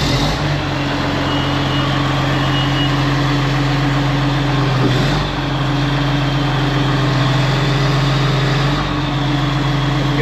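A worn bulldozer with 12,000 hours on it runs steadily with the ripper and blade lowered, a loud continuous diesel engine drone with a low rumble that holds level throughout, no talking.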